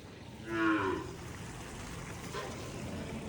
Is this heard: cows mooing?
yes